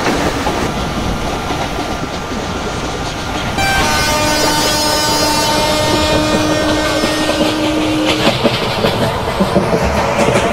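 A Kalyan shed locomotive passes at Vikhroli station in the Open Rails train simulator on an Indian railway route: loud rumbling and clattering, then a sustained horn blast joins midway, with rail clicks continuing toward the end.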